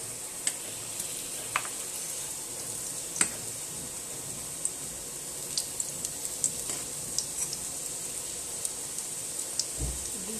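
Chicken rolls fry in a pan with only a little oil, pressed down lightly on both sides, giving a soft, steady sizzle with faint scattered ticks and pops throughout.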